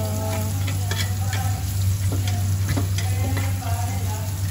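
Garlic sizzles in hot oil in a pan while cooking chop suey, a close, steady frying hiss with small crackles and occasional stirring clicks, continuous and loud under a low hum.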